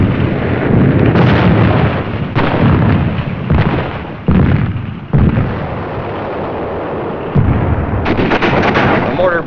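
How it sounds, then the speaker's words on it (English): A World War II mortar barrage at Iwo Jima pounds hidden machine gun nests, with loud repeated blasts and bursts of gunfire in irregular succession, close and dense, mixed with rumbling booms across the whole stretch. "The mortar barrage searches out hidden machine gun nests."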